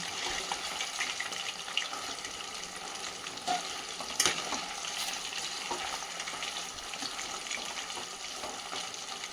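Chicken 65 frying in a pan as it is stirred: a soft, continuous crackling sizzle with occasional scraping clicks from the spoon, moderately faint and steady.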